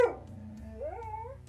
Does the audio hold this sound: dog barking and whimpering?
yes